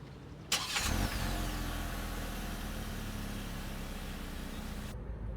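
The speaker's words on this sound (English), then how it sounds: "to start the engine, just put your foot in the brake and push the button to start" A 2024 MG 3 Lux small hatchback's engine starts with a push button: a sharp crank burst that settles into a steady, even idle for several seconds and then cuts off abruptly.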